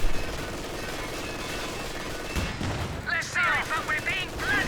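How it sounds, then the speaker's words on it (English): Rapid bursts of machine gun fire with incendiary rounds from the Company of Heroes 2 strategy game, a steady rattling stream of shots behind a commentator's voice, then sharper clustered cracks toward the end. "Incendiary rounds activated by the machine gun"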